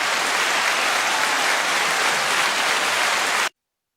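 An audience applauds a police commissioner at a public gathering, a dense, steady roar of clapping that continues loudly and then stops abruptly.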